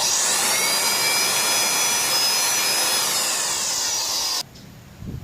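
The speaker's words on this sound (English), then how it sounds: "And even on this leaf blower, you see?" A leaf blower runs with a loud, high-pitched motor whine and rushing airflow roar, then abruptly cuts off, leaving a quieter rumble.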